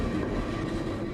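A train rolls along with a steady, low, faint rumble in the video game Sherlock Holmes Crimes and Punishments, unbroken and alone for about a second.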